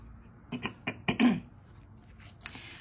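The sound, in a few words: throat clearing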